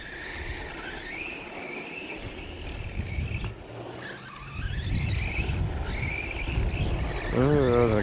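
A small RC car with soft 43 mm tires drifts across a surface, its electric motor whining and rising in pitch as the tires scrub and slide, heard close and steady with no talk.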